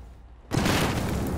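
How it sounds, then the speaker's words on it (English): A grenade in Battlefield 4 goes off with a sudden loud blast after a quiet moment, then a dense roaring rumble that carries on to the end. "Grenade."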